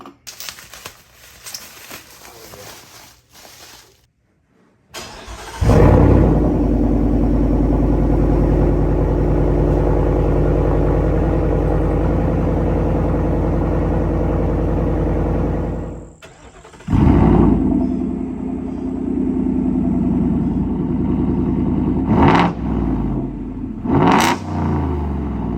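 A Ford F-150 with a 5.0 V8 and a Borla ATAK exhaust fires up for the first time: after a brief crank the engine catches into a loud, steady idle, cuts off, restarts, then takes a couple of sharp revs near the end.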